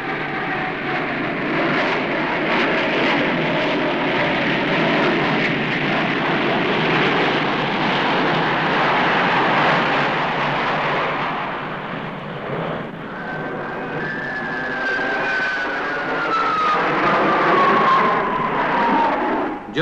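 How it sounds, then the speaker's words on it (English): Six Jet Provost jet trainers, an Air Force type introduced in 1961, fly in formation during an air display, a steady loud engine roar that swells and sweeps past, with a falling whine in the second half. "They'll be flying six Jet Provost trainers introduced to the Air Force in 1961."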